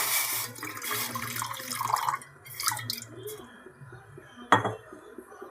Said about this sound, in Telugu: ఇప్పుడు అందులో కొన్ని వాటర్ పోయాలి.